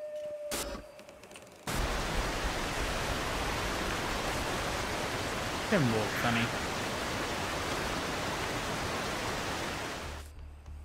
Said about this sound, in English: is that the waterfall?